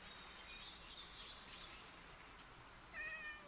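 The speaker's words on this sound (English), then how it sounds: "Hey, that's a cat up here." Faint high meows from a cat in a video game, a couple of brief thin calls over a steady low background hum, with no voices.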